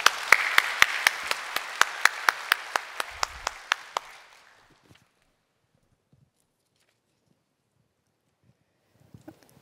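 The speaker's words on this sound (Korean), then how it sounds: "나오실 때 우리 박수로 격려해 주시기 바랍니다." A church congregation applauds in steady rhythmic unison over a wash of clapping for about four seconds, then falls almost silent apart from faint stray noises.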